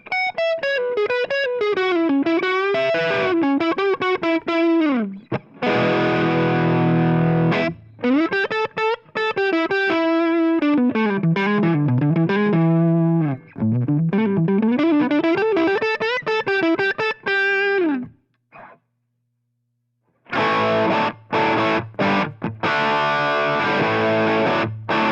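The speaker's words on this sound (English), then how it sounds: "And here comes the overdriven sound neck pickup first." Overdriven electric guitar on the neck pickup, run through a Line 6 Helix, with fast picked runs and sustained chords, loud and close, a short pause near the end before chords ring out again.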